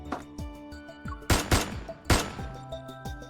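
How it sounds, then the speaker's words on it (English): Gunshots ring out in the video game Love and Deepspace, set in an empty reception hall: two loud, sharp blasts with echoing tails stand out over a busy, layered game soundscape, with smaller impacts scattered around them. "A gunshot explodes in the empty reception hall."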